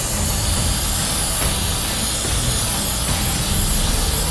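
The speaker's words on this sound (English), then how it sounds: "I just spray it off with contact cleaner." A steady, broadband hiss of contact cleaner aerosol spray on a KTM motorcycle oil cap runs continuously for several seconds, loud and close, with no voices.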